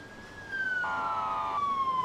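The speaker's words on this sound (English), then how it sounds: "I think you've had enough of this ambient sirens here." An emergency vehicle siren in the video game Emergency 4 wails steadily, a single rising and falling electronic tone, moderately loud over low background noise.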